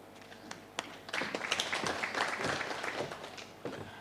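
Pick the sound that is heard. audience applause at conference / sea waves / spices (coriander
audience applause at conference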